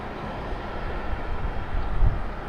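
A Frontier Airlines airplane in a special green livery at Raleigh-Durham International Airport gives off a steady, broadband jet roar that swells slightly toward the end, with no voices over it.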